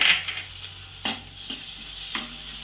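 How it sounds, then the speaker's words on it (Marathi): Tomatoes sizzle in hot oil with a roasted ginger-garlic-coconut paste, a steady frying hiss broken by several sharp scrapes and clinks of a spoon stirring the pan, with no talking. "टोमॅटो पण आपण चांगला तेलामध्ये परतून घेऊया"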